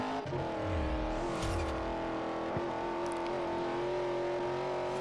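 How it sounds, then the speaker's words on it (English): A Corvette engine revs and drones steadily while racing in Forza Horizon, with rising and falling gear pitch and a sustained car roar throughout. "That Corvette does sound pretty good."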